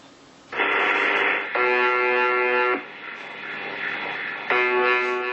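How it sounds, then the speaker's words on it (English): The UVB-76 shortwave radio station, known as the buzzer, broadcasts its harsh, droning buzz tones in long repeated bursts over a hissing background of radio static. "The UVB-76, also known as the buzzer."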